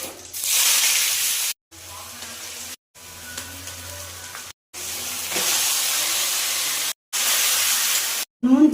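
Whole spices sizzling in hot white oil for a tempering, a loud bright hiss in bursts broken by short gaps, with a clatter at the end.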